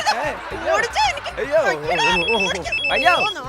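A phone rings in two short, repeated electronic bursts beneath animated talking and laughter.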